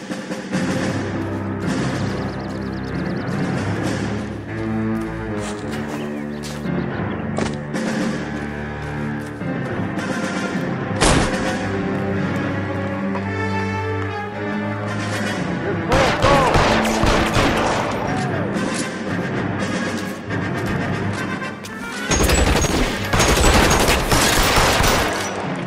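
Bursts of gunfire in the L.A. Noire video game crackle in clusters over a dense music and ambience bed, with heavier volleys toward the end of the clip.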